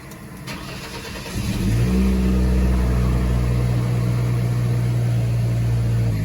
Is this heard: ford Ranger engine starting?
yes